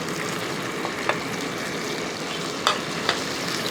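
Ginger, green chili and tomato sizzle steadily in a pan while a spoon stirs them, with a few sharp scrapes and clinks standing out over the soft, continuous frying hiss.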